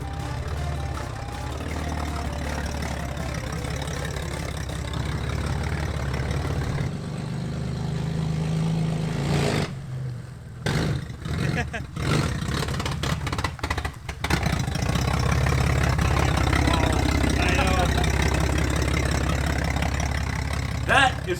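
A 1985 Toyota pickup swapped from a 22RE to a 3.4 V6 idles and drives on a test run, with a steady mid-pitched engine rumble that cuts out and stutters midway through, then returns stronger and hesitant under throttle.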